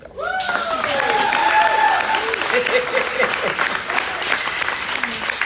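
An audience applauds after a political speaker's line at a public event, steady clapping filling the room while a voice speaks briefly over it.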